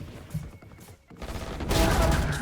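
Bursts of Vandal rifle fire in a Valorant esports match, rapid sharp cracks clustered together and growing into a dense loud barrage toward the end, with game sounds around it.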